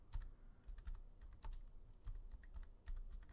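Rapid clicking of a computer keyboard being typed on during a Minecraft-style game session, with irregular bursts of keystrokes close to the microphone and no talking.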